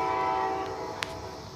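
A train passes with a sustained tonal horn blast that holds steady and then fades, joined by a brief sharp click near the end, heard moderately far off.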